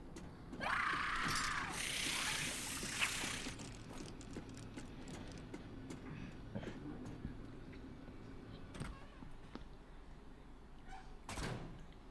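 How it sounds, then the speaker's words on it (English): Elevator ride in the video game Tormented Souls 2, with mechanical door and gear sounds up front, then a low steady hum with scattered clanks and thunks. "We're going to ride the elevator back up to B2 next."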